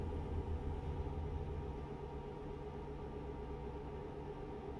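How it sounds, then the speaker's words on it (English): Truck engine in American Truck Simulator with an 18-speed transmission, a steady low droning rumble held at an even, fairly quiet level with no talk. "I should turn up the truck sounds a little bit."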